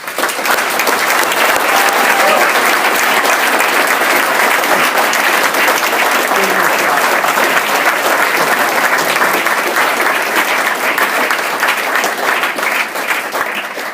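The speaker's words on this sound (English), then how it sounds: "This team deserves a round of applause." At a boys basketball banquet, the audience breaks into long, loud, sustained applause for the team, a thick wall of clapping that holds strong for nearly fourteen seconds.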